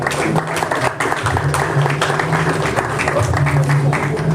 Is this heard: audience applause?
yes